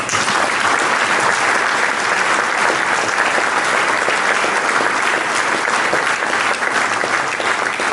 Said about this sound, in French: je leur demande de vous applaudir